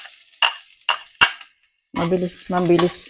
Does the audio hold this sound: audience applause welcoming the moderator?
no